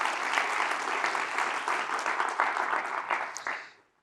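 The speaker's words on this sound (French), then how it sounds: "merci pour les applaudissements" A conference crowd at a UX event applauds steadily and loudly in a dense wash of clapping for about three and a half seconds before it quickly fades out.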